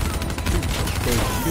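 Rapid automatic gunfire from Call of Duty Black Ops 3 fills a dense, continuous mix of game action, with bursts of shots layered over background battle noise and a voice partly heard beneath.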